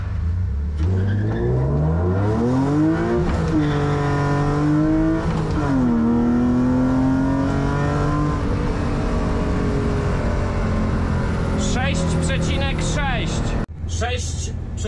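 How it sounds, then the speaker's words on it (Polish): A BMW E36 323ti pulls away hard from a standstill, its engine note rising steeply through the revs and then holding a steady strained drone, loud and close, ending in a short burst of higher-pitched noise. "Znowu bez żadnego wkręcania na obroty, tylko z miejsca, bo ona wtedy rusza bez poślizgu."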